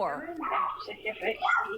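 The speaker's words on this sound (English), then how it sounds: "you can hear her dog barking inside her house" A dog barks and whimpers from inside a house in short yips and bow-wows, close and fairly loud, mixed with overlapping voices.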